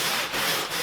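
A car floor mat being scrubbed and agitated with a brush after saturating it with cleaner, giving a close, loud, continuous rough rubbing with two quick back-and-forth strokes.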